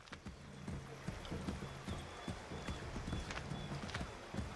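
Horse hooves clip-clopping in a steady rhythmic gait in the video game Assassin's Creed 3, fairly quiet and continuous throughout, with faint background ambience.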